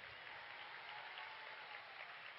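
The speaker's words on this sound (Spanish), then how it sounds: "Ahí están aplaudiendo las mujeres, muy bien." A live lecture audience on happiness and emotions bursts into steady, dense applause from many hands, a continuous wash of clapping held at an even level throughout, with no talking over it.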